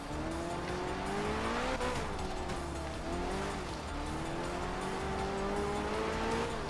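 A rally car pushing through stages in Art of Rally, engine revving up and dropping between shifts while tires skid and squeal on loose ground, constant and close with no voices.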